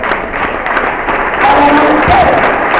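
A church congregation applauds in a sustained burst of clapping mixed with crowd noise, loud and fairly close, continuing for the full few seconds.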